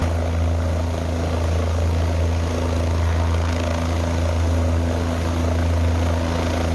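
A rescue helicopter evacuating 30 people stranded by a landslide drones steadily overhead, its low rotor thrum and engine whine holding at a constant, fairly loud level throughout with no voices.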